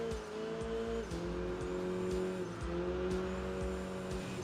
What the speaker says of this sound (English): Hearing the exhaust reverberate throughout the tunnels and everything.